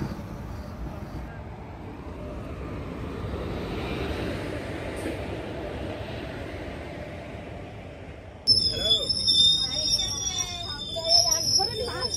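The Balurghat train running into Farakka station, a steady rumble of wheels on rails that builds, then gives way to sharp metallic squeals and clanks as it slows at the platform.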